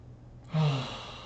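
A single long qigong exhale, a soft breathy sigh that begins abruptly and fades slowly, close and alone in a quiet room.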